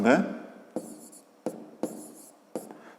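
A pen writes on paper during a fifth-grade math exercise, close scratchy strokes in short separate bursts, the first stroke under a brief voice.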